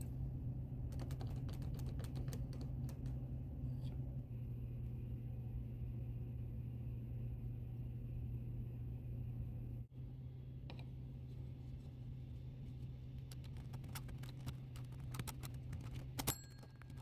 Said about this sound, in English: what you're hearing is that click pressing up against the ratchet wheel on the main wheel